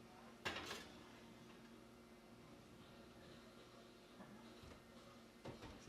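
Faint clanks as a baking dish of sticky rice cake is set into an oven, a sharp knock near the start and another clatter at the end over a soft steady hum.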